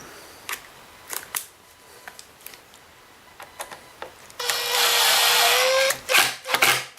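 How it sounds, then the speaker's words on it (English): An impact driver tightening bolts during reassembly of a Kirby Sentria 2 vacuum: scattered clicks and handling knocks, then a loud steady whirring burst of about two seconds, followed by a few short bursts, close and with no talk. "grab our impact driver. And we'll tighten those up."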